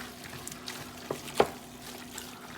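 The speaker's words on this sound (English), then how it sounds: "Now I'm gonna add the chopped tomatoes in" Chopped tomatoes are stirred into sautéed chicken keema in a pan, with a low sizzle under soft, wet stirring and a few sharper clicks of the spoon, close and fairly quiet.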